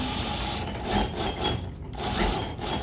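A sewing machine tacks together the flat, raw edges of a bustier panel with a quarter-inch seam, giving a steady close whirring stitch with slight swells, alone without talk.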